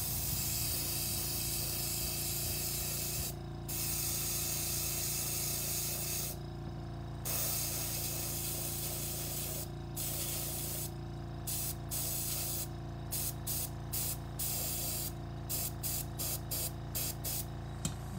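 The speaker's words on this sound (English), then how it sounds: "I'm going to do this from far away, and I'm kind of just going to spray a stream" Airbrush spraying silver paint onto a fishing popper head, a steady continuous hiss of air and paint with brief pauses and short on-off bursts toward the end, close and fairly loud with no talking.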